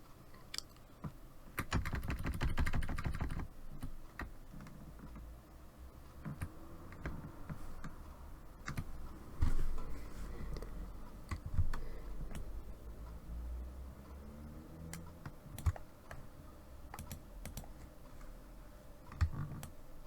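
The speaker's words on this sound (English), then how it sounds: "just use the down arrow on the keyboard to move it down" Keys on a computer keyboard are pressed in a quiet room: a quick flurry of clicks early on, then sparse single taps spread out, close and fairly soft.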